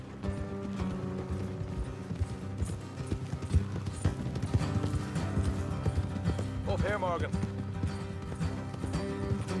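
Horse hooves clip-clop steadily along a dirt road in the Western game Red Dead Redemption, mixed with wagon rattle and a brief whinny, as a voice speaks over the moving ride.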